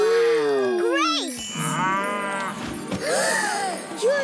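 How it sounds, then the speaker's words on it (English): A cartoon cow gives a drawn-out, wavering moo with bright harmonic sweeps, loud and close, followed by livelier squeaky cartoon sounds and effects. "Your cow is alive, Chloe."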